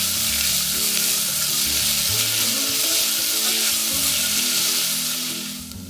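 Onions sauté with a little salt in a hot pan for roadside parotta salna, giving a steady, close, loud sizzle and frying hiss that runs unbroken throughout.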